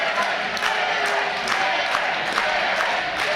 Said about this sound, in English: listen to this crowd come alive for Eric Young